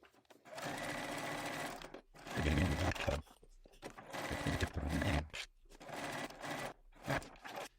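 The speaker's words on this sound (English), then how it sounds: "Now we're going to head to our sewing machine, and using a 1/4 inch seam allowance, we're going to sew" A sewing machine stitches across fabric in several bursts of rapid stitching, whirring up and stopping with short pauses between runs.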